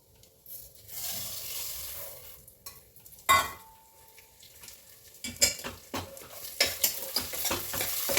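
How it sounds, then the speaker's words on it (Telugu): Moong dal frying in oil with mustard seeds in a pan, a soft sizzle broken by scraping stirs and clinks of a metal spoon, growing into a quick run of louder scrapes toward the end. "ఇప్పుడు పెసరపప్పు ఇందులో ఆయిల్ వేసి మనం వేయించుకుందాము"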